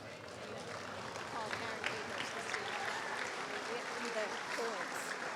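A gymnasium crowd of student athletes at a varsity sports celebration applauding their parents, steady clapping from many hands with voices murmuring and calling out underneath.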